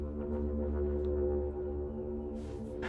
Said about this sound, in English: this song started with what is probably the most recognizable part of it, and that's this didgeridoo sound.